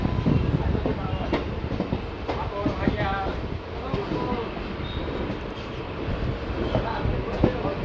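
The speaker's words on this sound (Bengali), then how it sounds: "মেমু ট্রেন এবার ধীরে ধীরে স্পিড নেবে।" A 63026 Rampurhat–Azimganj MEMU passenger train rolls slowly after a rainy-season stop, its wheels beating a steady clickety-clack over rumbling carriage noise, heard from inside with voices faintly present.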